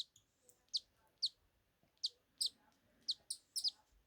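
High, thin chirps from a baby cockatiel, repeated in short bursts and doubled calls, close but quiet over a near-silent background.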